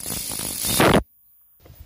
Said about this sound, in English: we're going to open these T20s here for the brake reservoir